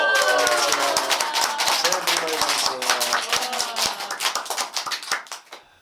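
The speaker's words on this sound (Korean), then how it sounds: "박수 한번 주세요" Studio audience applauding a returning former member of the Dick Family group on a Korean talk show, a dense burst of many clapping hands that thins and fades out over several seconds.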